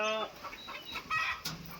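A few chickens cluck and squawk nearby in short, overlapping calls, fairly quiet.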